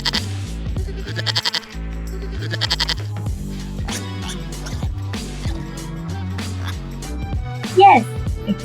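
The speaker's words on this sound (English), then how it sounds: "Yes, it's a goat." A goat bleats in wavering cries over cheerful children's background music, with a few separate calls spread across the stretch.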